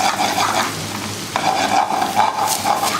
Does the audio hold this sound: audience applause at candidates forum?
no